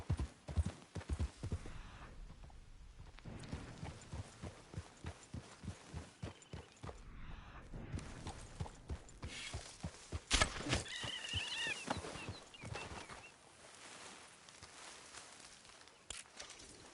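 In the video game Red Dead Redemption II, a horse's hooves clip-clop rhythmically on the ground at a run, and the horse gives a clear neigh partway through; the sounds are moderately quiet and close.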